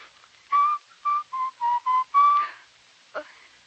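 Someone whistles a short run of clear, separate notes, close by, followed by a brief faint breathy attempt after a pause.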